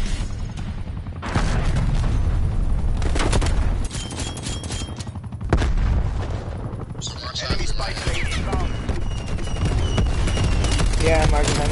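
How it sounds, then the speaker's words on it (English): An incoming artillery strike in a shooter video game lands as a rapid series of heavy booms and blasts, loud and close, mixed with gunfire bursts and a game voice callout. "Artillery targeting detected."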